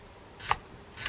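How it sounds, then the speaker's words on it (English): A Penn Spinfisher V3500 spinning reel's drag being tightened gives two short, close ratcheting click bursts separated by a brief pause. "We're tightening down the drag now."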